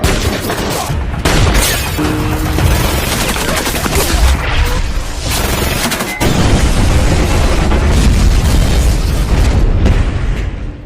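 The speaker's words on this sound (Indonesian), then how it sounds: "dikejutkan dengan sebuah tembakan jarak jauh" A sharp long-range rifle shot cracks amid a dense, continuous barrage of booming blasts and clatter, loud and chaotic throughout with no talking.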